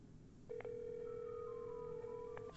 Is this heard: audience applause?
no